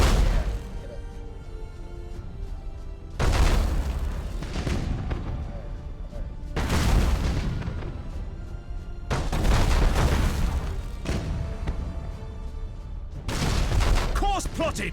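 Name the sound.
broadside macro cannons firing in Battlefleet Gothic Armada video game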